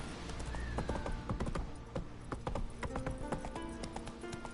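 Roach, the horse in The Witcher 3, trots with a steady clip-clop of hooves close by, accompanied by a brief whinny and no talking.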